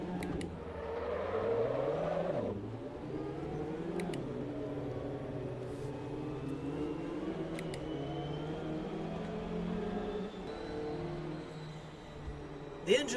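A steady mechanical engine hum with shifting pitch runs throughout, from a Vauxhall Astra in the racing game Assetto Corsa at Brands Hatch, with a brief change around two seconds and a small knock near the end.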